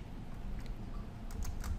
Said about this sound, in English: So we type in the username, type in the password.